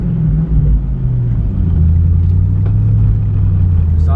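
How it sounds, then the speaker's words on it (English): A Pontiac Firebird engine runs with its choke stuck on, a loud, close, steady low rumble whose pitch shifts slightly partway through. "Sounds like that choke's not coming off either."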